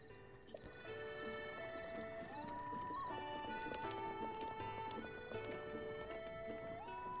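Horse hooves clip-clop steadily while riding in the open-world game The Legend of Zelda: Breath of the Wild, a continuous rhythmic gallop over game music.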